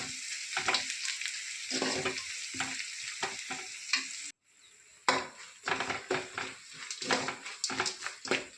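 Turmeric powder is stirred into sizzling chitranna seasoning in a hot pan, a steady near fry with repeated scraping strokes of a spoon, briefly pausing midway before the stirring and sizzle resume.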